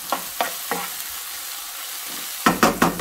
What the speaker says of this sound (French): Allez, je fais revenir tout ça tranquillement.